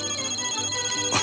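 A mobile phone ringing in a domestic drama scene, a steady electronic tone held throughout at moderate level, with a short brighter burst near the end and no talk over it.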